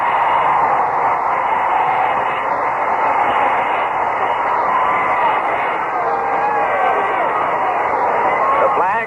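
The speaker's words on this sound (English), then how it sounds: "Listen to the crowd here in Oakland." Crowd at a 1974 AFC Championship football game in an Oakland stadium, a dense, continuous roar of thousands of fans heard through a narrow, radio-like broadcast sound, loud and unbroken.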